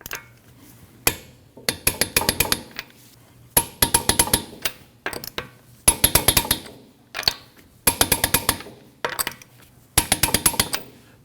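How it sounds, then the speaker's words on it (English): Wheel nuts on a 2013-2019 Ford Escape 1.5L L4 are torqued down in a star pattern, giving repeated bursts of sharp metallic clicking and clanking, several distinct groups spaced a second or two apart, close and fairly loud with no talk. "You want to torque each nut down at 100 foot-pounds in a star pattern."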